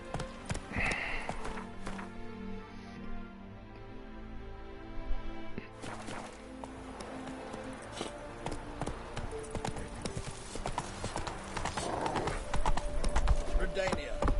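Roach, the horse in The Witcher 3, runs with repeated hoofbeats under game music and ambience, while a person talks over parts of it.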